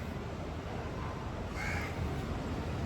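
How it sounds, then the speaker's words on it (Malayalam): A crow caws overhead outdoors near a home, a short harsh call standing out over steady background noise with no talk. "കാക്ക മോളില് കാക്കയുണ്ട്"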